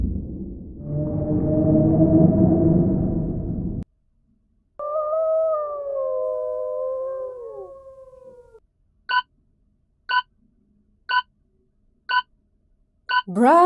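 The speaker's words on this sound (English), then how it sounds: "The animal is a wolf." A wolf howl: one long, sustained cry with a gliding pitch, heard clearly on its own after a burst of broad noise and followed by a string of short electronic beeps.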